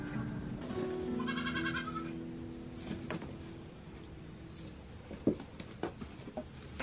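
Newborn baby goats give several short, high, quavering bleats at close range in a quiet barn, scattered among faint rustles and soft knocks.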